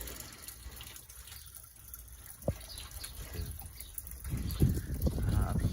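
Water trickles and splashes steadily into a backyard fountain basin nearby as it fills, growing louder and fuller toward the end, with a few faint background noises.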